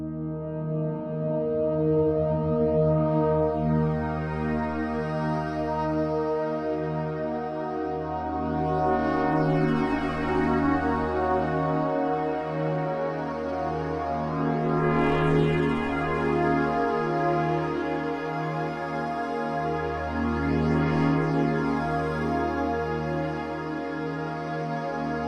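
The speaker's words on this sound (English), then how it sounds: "And of course, with reverb, chorus, and delay, and a little bit of EQing, it sounds like this." FM synth pad processed with reverb, chorus, delay and EQ holds sustained chords that swell and shift slowly in timbre, a warm, wide, evolving drone at steady moderate volume with no voices.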